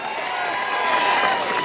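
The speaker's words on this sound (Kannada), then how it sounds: "ಜೋರಾಗಿ ಚಪ್ಪಾಳೆ ಹೊಡೀರಿ" An audience at a farmers' association event in Gurlapur claps and cheers loudly together, a dense, steady wash of applause with crowd noise that holds throughout.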